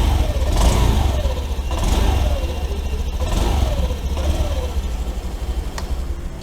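A Honda 110 scooter engine runs close by, rising and falling in several repeated revs over a steady low idle rumble, with no talk over it.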